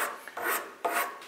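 A hand file rasps against a wooden violin part in short, close strokes, three or four gritty scraping passes with brief pauses between them.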